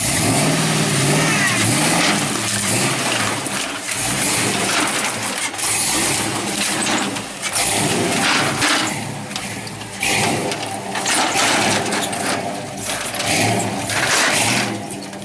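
An old square body truck engine revving hard off-road while lifting a front wheel, loud rough roaring that surges and dips in waves, with rattles and clunks mixed in.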